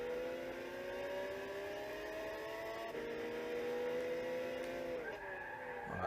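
A race car engine in Gran Turismo 6 holds a high, steady whine, shifting pitch as gears change, with faint tire skid noise and no voices.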